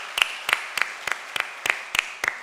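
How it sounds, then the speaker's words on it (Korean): A church congregation claps to welcome new members during a Sunday service, with eight sharp, evenly spaced claps in a steady rhythm and quiet room tone between them. "우리 따뜻한 박수로 환영하겠습니다."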